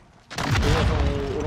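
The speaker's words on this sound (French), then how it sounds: "Il me fout au RPG." An RPG rocket launcher fires in the video game Warzone, a sudden loud booming blast that swells into a sustained roar and rumble lasting over a second.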